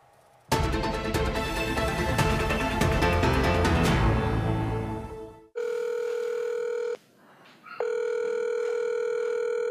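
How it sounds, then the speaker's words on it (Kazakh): A WhatsApp call rings out after a stretch of loud music ends. Two long, steady electronic ringing tones sound clearly, separated by a short pause. "осылай WhatsApp желісімен телефон шалатыны бар"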